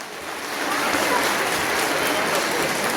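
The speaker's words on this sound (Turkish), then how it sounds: "kuvvetli alkışlarla" Strong crowd applause at an outdoor keşkek festival in Kurucuova, Muğla, a steady broadband clatter of many hands that swells slightly after the start and stays full throughout.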